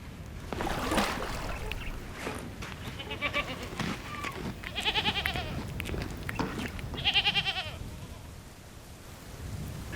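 A small herd of goats at a temporary desert well in the Aïr region bleats several times, the wavering calls clear and fairly close over a rough, noisy outdoor background.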